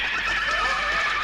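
A horse in a Lucky Luke cartoon gives a single clear neigh, a short rising and falling whinny heard up close.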